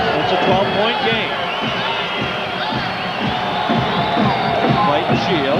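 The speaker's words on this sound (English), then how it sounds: "I heard the big roar. The Aggie crowd is back in it now." Home crowd roaring during a New Mexico State basketball game against UNM in a packed arena, a dense sustained swell of cheering and shouting that fills the whole clip, with a commentator talking over it.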